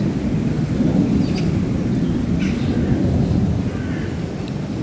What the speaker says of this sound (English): Sounds like the R.A.F again, the jets.